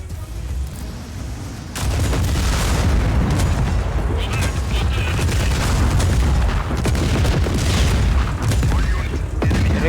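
Tank fire in Just Cause 4 sets off a heavy run of booming explosions after a quieter opening, loud and continuous with sharp blasts layered on a deep rumble, while a voice talks over it.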